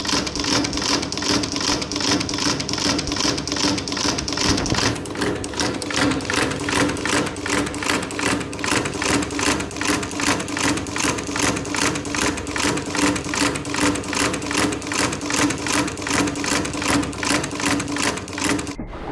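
A chain-stitch sewing machine runs steadily and loudly for the whole stretch, its needle hammering in a fast, even rhythm, with the tone shifting slightly partway through and no talking over it.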